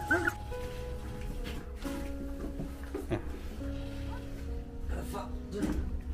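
Newborn puppies, a litter of seven orphaned, whimpering and yipping in thin high cries scattered through the clip, close by, while adults talk over them.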